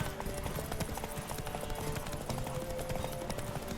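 Horse hooves gallop in The Witcher video game, a fast steady clip-clop rhythm running unbroken and close with dense game sound behind it.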